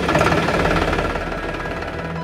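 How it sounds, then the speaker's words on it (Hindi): A Trakstar tractor engine runs with a rough, knocking diesel clatter, loud and close, its rhythmic chugging holding steady for a couple of seconds and easing slightly toward the end, with no voices. "सबसे पहले ट्रैक्टर को स्टार्ट करें।"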